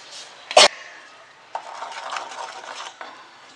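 Tamarind pulp poured into a hot pan: a sharp clank of the vessel, then a soft wet hiss and sizzle that lingers for a couple of seconds before a final light tap.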